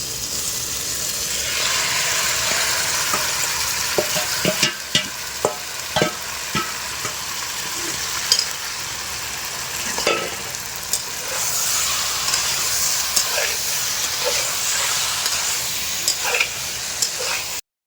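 Chicken curry frying in a pan after chopped tomatoes go in, a steady close sizzle running throughout with scattered sharp clicks and scrapes of stirring, no voices.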